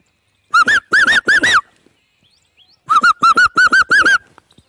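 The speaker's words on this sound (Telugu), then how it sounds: "దాని తర్వాత ఇదే కుహు కుహు కూడా అంటుంది." An Asian koel gives its rapid kuhu kuhu call in two quick bursts of repeated bubbling notes, loud and close with no other sound.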